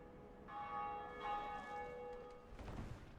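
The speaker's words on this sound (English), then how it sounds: "we get the first bell rung" A church bell tolls in Dark Souls, two clear resonant strikes with ringing harmonic overtones that linger and fade, followed by a low rumbling thud, alone without talk.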